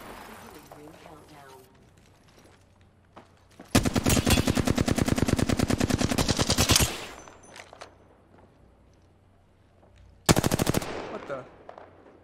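Rapid automatic gunfire from an Apex Legends match, one loud sustained burst of about three seconds followed later by a shorter burst, over quieter game ambience and faint background noise.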